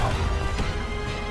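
A Depulso force spell in Hogwarts Legacy strikes with a loud, heavy crash, then a sustained rumbling roar over steady game sound.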